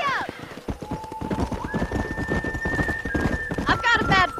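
A horse in the video game Red Dead Redemption clip-clops along in a steady gallop and lets out a rising whinny near the end, heard under talking voices.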